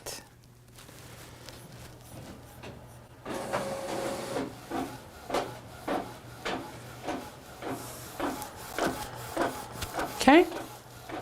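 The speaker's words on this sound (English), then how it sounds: "So that is printing." A printer running a heat-transfer print, giving a steady hum then a regular train of rhythmic mechanical passes, close and moderately loud, ending in a brief higher whir; no talk over it.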